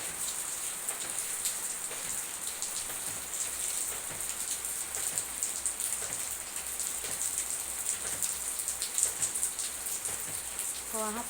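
Heavy rain falls steadily, a continuous hiss with scattered close drips on surfaces that holds throughout at moderate loudness.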